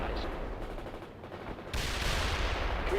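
Gunfire in the real-time strategy game World in Conflict, a dense continuous rattle of shots and bursts that grows louder and fuller partway through, with a faint voice underneath.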